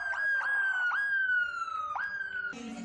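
Police car siren in a children's day convoy of police and municipal vehicles on a city street: a loud electronic wail with repeated rising yelps, switching to a harsher, rapid tone near the end.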